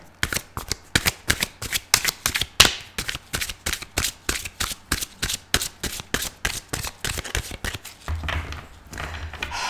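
Tarot cards being shuffled for a reading, a long run of crisp, rapid riffling bursts in steady rhythm, close and fairly loud, with no talk over them.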